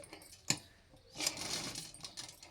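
A sewing machine stitching a baby frock runs in a short, close burst of fast mechanical whirring after a single sharp click, fairly quiet overall.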